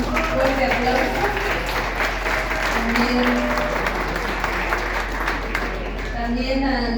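Audience applause at a book presentation for Ap Ayuuk, a steady wash of clapping from a crowd that runs throughout, with a voice speaking over it.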